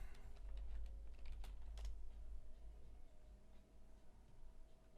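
Quiet keyboard typing, a run of light clicking keystrokes close by, with a low background hum.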